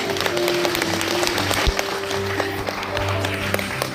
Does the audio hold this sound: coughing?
no